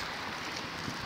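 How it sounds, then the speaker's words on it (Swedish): Steady rain falls outdoors on a wet December day, a dense, even wash of drops close by with no voices over it. "Här är det sjukt regnigt och jävligt."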